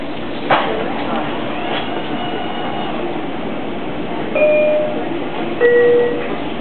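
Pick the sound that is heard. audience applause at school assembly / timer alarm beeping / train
train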